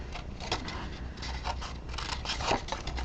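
Scissors snip through paper while cutting out Stampin' Up Top Note die bunny boxes, giving a few close, crisp cuts and rustling scrapes over about three seconds with no talk.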